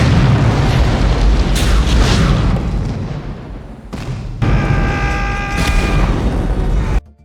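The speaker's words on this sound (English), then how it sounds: "the explosion at the top of the Nakatomi skyscraper is the result of shooting a" An explosion at the top of the Nakatomi skyscraper in Die Hard, filmed using a scaled-down model of the building, unfolds as loud, heavy booming and rolling rumble with a second blast partway through, then cuts off abruptly.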